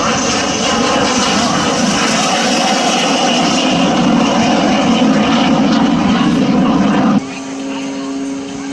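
Aerobatic propeller airplane at an airshow, a loud sustained engine drone with a buzzing propeller roar that drops off sharply near the end, heard over open-air background.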